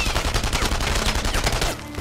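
Gunfire in the World War II shooter Enemy Front: a dense, continuous fusillade of rapid shots and machine-gun bursts, loud and close, tailing off slightly at the end, with no talk.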